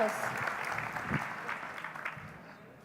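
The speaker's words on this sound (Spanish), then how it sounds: "un aplauso para ellos" An audience at a welcome address applauds the speakers, a soft, fairly distant patter of clapping that stays quiet and fades out within a few seconds, with voices mixed in.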